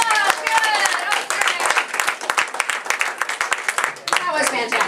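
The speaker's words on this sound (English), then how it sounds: "give it a round of applause." Applause from an audience at an improv workshop performance, dense claps mixed with voices and cheering, continuing under lively crowd chatter.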